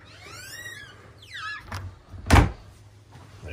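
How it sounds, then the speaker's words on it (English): A water closet door in a 2002 Prevost Liberty motorhome shuts with a single solid thunk near the middle, following faint squeaky sounds and a quiet room. "Shut off the water closet door to get access to your Bosch washer and dryer."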